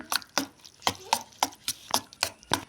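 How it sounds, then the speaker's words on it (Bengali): Fried spices are mixed into eggs in a bowl, making about nine sharp, evenly spaced taps close up, with no talking over them. "এখন ডিমের সাথে মিক্স করে দেবো"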